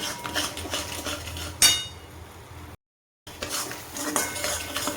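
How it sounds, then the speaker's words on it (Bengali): Utensils scrape and clink against a pan as food is stirred over a steady sizzle, with a brief silent gap midway. "এবার ভালো করে ভাজা ভাজা করে নাড়ি"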